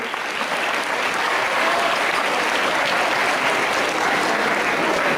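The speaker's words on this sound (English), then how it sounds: "Give him a loud round of applause, please." A school Republic Day crowd claps steadily and loudly, a dense, continuous wash of applause that holds at full strength for several seconds.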